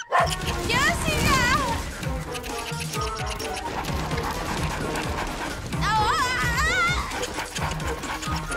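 Cartoon dogs in a Polly Pocket animated episode let out several bursts of high yipping barks and whimpers at the start and again near the end, with character voices and music running underneath.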